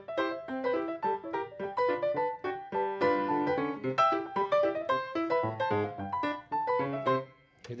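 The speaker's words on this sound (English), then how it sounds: "You take the same thing and you syncopate the rhythm," Solo piano plays a march with syncopated rhythm, lively off-beat chords and melody bouncing over a walking bass, close and clear with no one talking.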